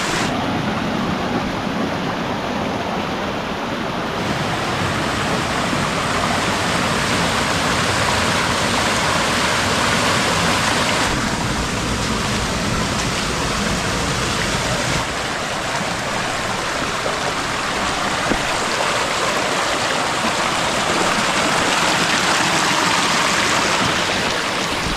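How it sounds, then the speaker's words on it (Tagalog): A strong stream rushes steadily in a rainy rural setting, a loud, continuous broadband roar of flowing water with slight shifts in intensity and no voices. "Malakas yung tubig dito sa aming sapa kasi palagi may ulan"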